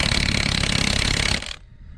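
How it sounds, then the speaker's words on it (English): A Milwaukee 3/4-inch drive impact wrench fitted with a welded-nut socket extension hammers loudly in a rapid, continuous rattle up close, then cuts off abruptly and leaves a fading ring. "It's on my 3/4 drive Milwaukee Impact."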